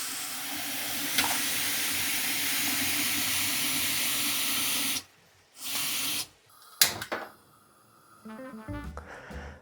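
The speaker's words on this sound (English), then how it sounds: "The next step that I'm going to do is like boiling some water." Water boiling in a pot makes a loud steady hissing rush, cutting off abruptly, followed by brief clatters and rattling.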